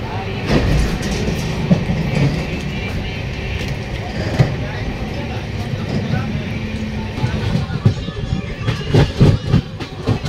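Patna–Howrah Jan Shatabdi Express running with steady rumble and rhythmic clickety-clack of wheels over rail joints throughout, a passenger speaking over the continuous noise.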